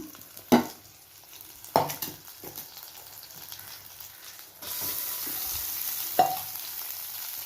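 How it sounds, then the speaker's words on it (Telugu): Leftover rice mixed with lemon juice, salt and turmeric is stir-fried in a tempering, with a few sharp spatula knocks against the pan, then a steady sizzle rising as the rice hits the hot oil. "ఇప్పుడు పోపు వేసుకుంటున్నాను. చూడండి, అన్నం వేసేసుకుంటున్నాను."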